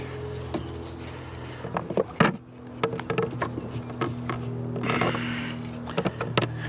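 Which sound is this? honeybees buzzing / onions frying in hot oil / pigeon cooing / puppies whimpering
honeybees buzzing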